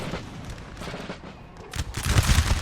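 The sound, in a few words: soldiers firing guns all together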